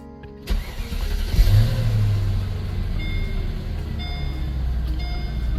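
A 2005 Mercedes SL 500 engine cranks and catches after a brief quiet moment, then settles into a steady, deep idle with a low rumble that continues close and alone to the end.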